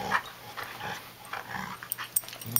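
Husky dogs playing, one making rough growling and grumbling noises amid scuffling, with short yips and bursts near the end; close and moderately loud, no talking.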